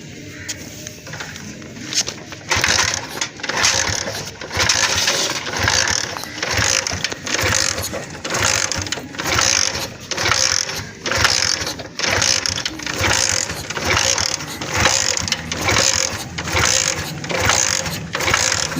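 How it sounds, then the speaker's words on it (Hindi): A motorcycle with a spark plug output current fault is kick-started over and over. The kick lever clacks in a steady repeating rhythm of mechanical ratcheting strokes, close and loud, and the engine never catches. "कम से भी कम मेरा ख्याल है 10 से 12 किकें हमने लगाई हैं"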